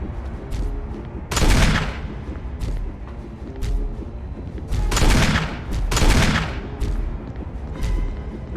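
Gunshots in the Resident Evil 1 remake, several loud, booming reports spaced a second or two apart, each with a heavy decaying tail, over a low ambient game backdrop.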